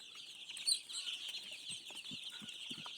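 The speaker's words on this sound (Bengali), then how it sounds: "আমার মুরগিগুলো কীভাবে দৌড়াদৌড়ি করে খাবার খাচ্ছে" Young brooding chicks on a poultry farm run about and feed, giving a faint, continuous high peeping chorus with a few soft pecking taps underneath.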